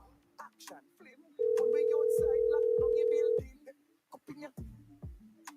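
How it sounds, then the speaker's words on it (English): A telephone ring-back tone sounds steadily for about two seconds during an outgoing call, loud and close, with scattered talk before and after it. "So let me give her a quick phone call."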